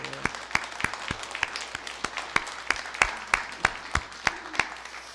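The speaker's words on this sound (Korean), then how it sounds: "박수하겠습니다." Sparse applause from a church congregation during a Sunday worship service, a handful of distinct sharp claps standing out in a loose, uneven rhythm over a quiet room.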